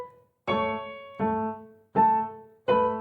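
Piano plays four sustained, ringing chords in a steady even pulse, hands together and without ornaments, from Mozart's Turkish March; close and clear with no voices.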